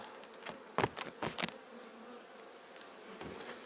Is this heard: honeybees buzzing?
yes